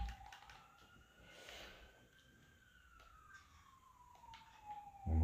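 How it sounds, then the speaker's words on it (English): A siren wails faintly in the distance behind Minecraft gameplay, one slow rising and falling tone with light keyboard tapping nearby. "I hear sirens in the background, my friends."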